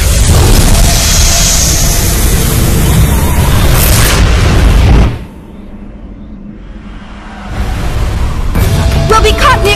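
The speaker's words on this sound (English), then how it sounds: "We'll be caught in the explosion!" An explosion from a Xenosaga II video game cutscene: a loud, broad roaring blast that sustains for several seconds, then cuts abruptly to near quiet before more rumbling and crackling return.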